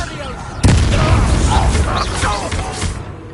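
Confringo blasting spell exploding in Hogwarts Legacy, a sudden loud boom followed by a rumbling burst and crackle, with a voice speaking over the combat noise.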